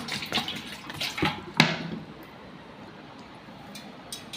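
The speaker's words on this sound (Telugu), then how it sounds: "ముందుగా కొంచెం గిన్నెలో వాటర్ పోసుకొని" Water splashes and trickles into a bowl in short bursts for about two seconds, then fades to a quiet background hiss with a faint drip.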